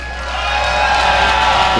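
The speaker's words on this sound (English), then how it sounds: "Can you guys give a big round of applause for those guys?" A live crowd at an esports event (a StarCraft II GSL world championship match) cheers and whoops with some applause, a dense, steady roar of many voices that builds slightly over a short stretch.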